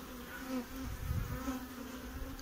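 Honeybees buzz steadily at a hive while a reserve colony, an overwintered nucleus in Brno, is inspected outdoors, a close continuous drone with a slight swell near the middle.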